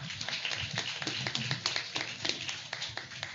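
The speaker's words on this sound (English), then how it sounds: "let's give them all one more round of applause, please." Applause for student athletes at a county school board meeting, a steady patter of many hands clapping together, moderately loud and continuous throughout without speech.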